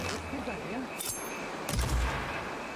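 Two or three sharp gunshot blasts ring out over a noisy background with low rumbling booms, in Horizon Forbidden West game combat audio.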